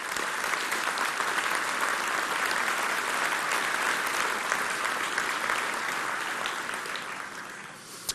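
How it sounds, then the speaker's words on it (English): A full audience at a Rollins College event breaks into a sustained round of applause, dense and loud throughout, thinning slightly and tapering off near the end. "Please give these people a fine round of applause."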